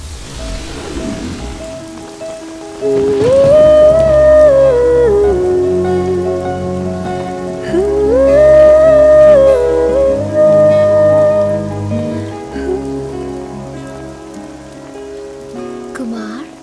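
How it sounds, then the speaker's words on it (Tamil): Heavy rain falls steadily behind a melodic music track with a cool breeze, the hiss of the downpour sitting beneath the louder tune for the whole stretch. "நல்ல மழை பெய்யுது, சும்மா சில்லுன்னு காற்று."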